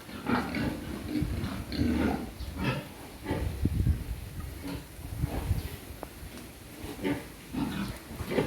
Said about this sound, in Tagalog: Ito po, inahin ito.